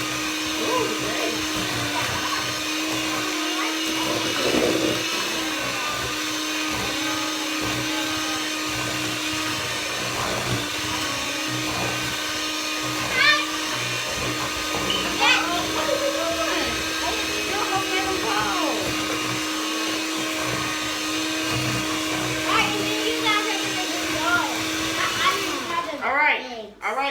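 An electric hand mixer whirs steadily while creaming butter for Grinch cupcake batter in a home kitchen, a constant close motor hum for most of the clip, with children and adults chatting faintly underneath.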